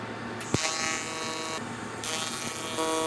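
TIG welding on aluminum outside corners with a Miller Dynasty 200 at around 120 amps, a steady close electric buzz with a sharp arc strike at the start and slight shifts in tone as the weld goes on.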